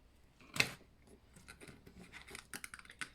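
Scissors snip off excess string after a double knot while crafting Halloween spiderwebs: one sharp close cut, then quieter scratching and rubbing of the string.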